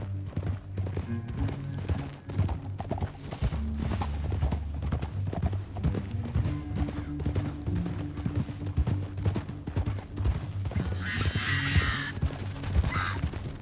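Steady clip-clop of horse hooves trotting in the video game Red Dead Redemption 2, close and rhythmic, over a low ambient music bed with a brief higher chirp near the end.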